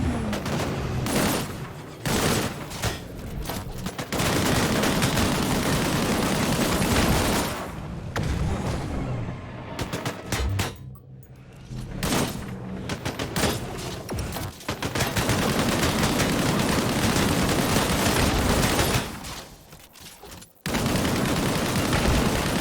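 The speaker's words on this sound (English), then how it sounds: "Engage the enemies ahead using your primary weapon." Primary-weapon gunfire in the sci-fi shooter Disintegration, with dense, loud bursts of automatic fire and booming impacts that run in long stretches with brief gaps.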